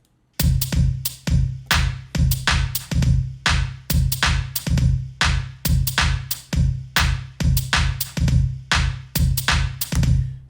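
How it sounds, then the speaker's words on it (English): A UK garage drum loop in Ableton Live, with the original hi-hat pattern layered under a swung hi-hat sample from a UK bass pack: dense, loud, steady shuffling hat hits over a low thud, running continuously with no talk. "I've decided to add this swing hi-hats from the UK bass, I guess, sample pack"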